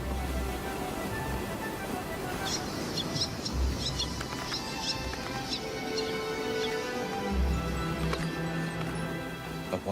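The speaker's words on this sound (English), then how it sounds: "The air is alive with birds." Seabirds on Ascension Island call continuously from close by, with sharp repeated chirps and whistles layered over a busy colony hubbub and occasional low thumps.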